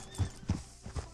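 Horse hooves clip-clop at a steady walking pace in the Red Dead Redemption 2 video game, four distinct close thuds over a low ambient background.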